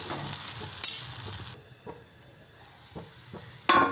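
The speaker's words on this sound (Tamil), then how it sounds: "திருப்பி போட்டிருக்கேன். அடுத்த பக்கமும் நல்லா மொறுமொறுன்னு வேகட்டும்." A Thanjavur-style adai lentil crepe crisps in a covered appam pan, giving a soft intermittent sizzle with a few light clinks and lid or spatula taps, close and fairly quiet.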